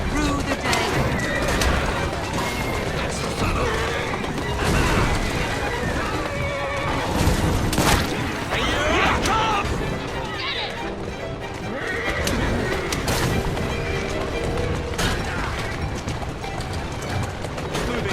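Horses whinny and hooves clip-clop continuously as horse-drawn carriages race in a chase through the streets in Assassin's Creed Syndicate, with a dense busy mix of galloping and wheel noise throughout, under occasional voices.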